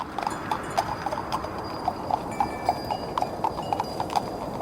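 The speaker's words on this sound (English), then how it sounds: "Go horses, run! Move those damn hooves" Horses' hooves clip-clop in a steady, fast rhythm of crisp knocking beats over a rumbling background, close and fairly loud, from a German-dubbed Zagor adventure.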